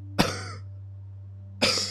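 Two sharp, separate coughs from a person, the first near the start and the second about a second and a half later, close and fairly loud over a steady low electrical hum.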